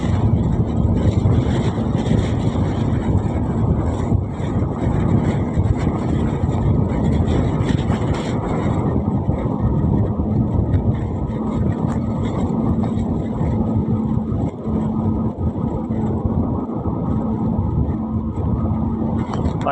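Vehicle engine running steadily while driving on a road past areca nut and banana groves, a continuous loud rumbling drone with wind buffeting throughout.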